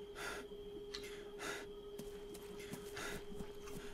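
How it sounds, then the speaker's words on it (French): Soldier character in Arma 3 panting out of breath, four heavy rhythmic gasps spaced about every second and a half, close and fairly faint over a steady hum. "c'est pour ça que vous l'entendez qu'il s'essouffle"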